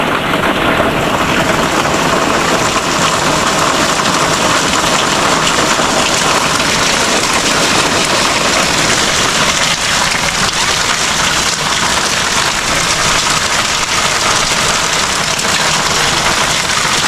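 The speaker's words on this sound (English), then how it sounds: "It's raining." Steady rain falls outside a home, a dense continuous hiss of drops on surfaces that stays even and fairly loud throughout, with no voices.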